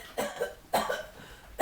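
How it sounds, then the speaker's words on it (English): Three sharp coughs from one person, close and loud, evenly spaced and standing alone with no talking. "continuous cough"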